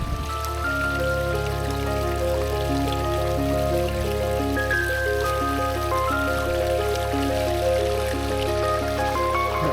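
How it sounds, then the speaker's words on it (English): Water pours steadily over a small weir on Smallshire Brook, a continuous broadband rush and trickle filling the whole clip at an even, fairly close level with no break or voices. "behind on the Smallshire Brook there is a little bit of a waterfall, a bit of a weir they've built"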